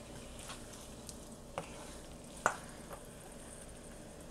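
Green chilies cooking on low flame in a pan for octopus vindaloo, a quiet, soft sizzle with a couple of brief clicks or taps of a utensil.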